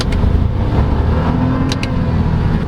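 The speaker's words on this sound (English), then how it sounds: "This engine sounds great." A Toyota Raize 1.0 three-cylinder turbo engine revs loudly and steadily from close range, a thick continuous engine drone holding high load for about three seconds with no voices.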